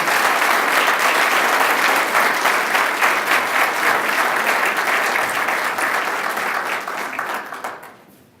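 An audience at the 2016 Thomas S. Green Public Service Awards in Auburn applauds an award winner with loud, sustained clapping that holds steady, then tapers off over the final second.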